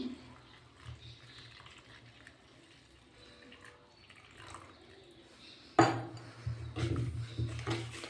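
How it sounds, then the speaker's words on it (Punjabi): Quiet room tone gives way to a sudden splash as water pours into a tile-cleaning mixture, followed by a few seconds of sloshing and trickling. "ਹੁਣ ਆਪਾਂ ਇਹਦੇ ਵਿੱਚ ਪਾ ਦਾਂਗੇ ਪਾਣੀ"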